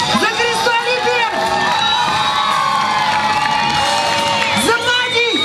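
A crowd at an outdoor town event in Lyubimets cheers, whoops and applauds, with children shouting over a loud, continuous roar of clapping and voices.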